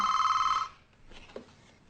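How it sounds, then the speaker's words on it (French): A telephone rings with a steady electronic trill that cuts off abruptly, followed by quiet room noise and a faint click as the handset is picked up. "Passe-moi le téléphone, j'appelle Jolet."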